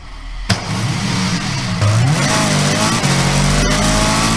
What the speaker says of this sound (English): I actually really like that engine sound in the car.